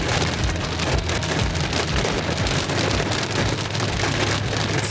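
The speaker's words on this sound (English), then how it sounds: "It's hailing. Oh my god," Heavy rain mixed with hail pounds steadily on surfaces outdoors during a cold late-September storm, a dense continuous hiss and patter with low rumbling underneath and no voices.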